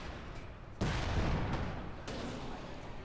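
Tank gunfire in Company of Heroes 2, a heavy cannon boom at the start followed by a rumbling, sustained roar of battle with a second softer blast about a second later, loud and dense.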